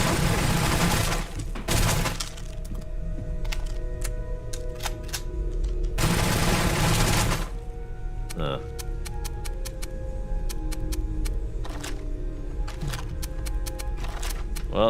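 Starfield gunfire in bursts: two long rapid volleys followed by scattered single shots and clicks, loud and close, with quiet stretches between.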